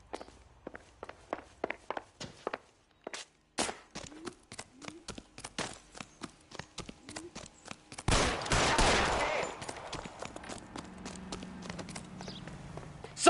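A rapid string of sharp gunshot-like cracks fires in an uneven rhythm, then a dense loud burst of noise takes over and lingers to the end.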